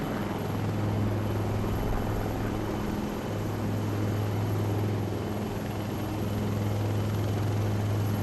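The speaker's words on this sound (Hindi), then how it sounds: "वास्तविक में यहाँ पर 2 हेलीकॉप्टर है परेड ग्राउंड के दाएं और बाएं।" Helicopters hover over an Indian Army Day parade ground, a loud continuous rotor thrum and engine whine that dips briefly midway, then holds steady.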